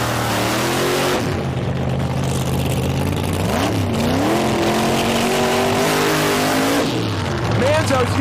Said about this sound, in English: let's watch these cars in the dry burnout